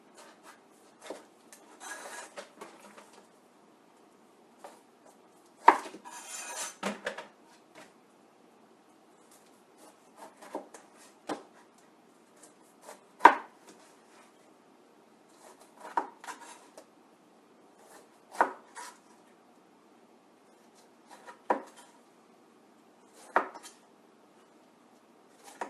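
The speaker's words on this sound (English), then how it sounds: "We're going to test this knife, and we're going to cut a fresh pineapple." An 8-inch Zelite Infinity chef's knife cutting through a fresh pineapple, with scattered sharp chopping and board knocks spaced several seconds apart amid near silence.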